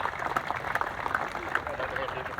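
An audience at an Asia-Europe youth event in Cambodia breaks into applause, a busy patter of clapping with a voice speaking over it.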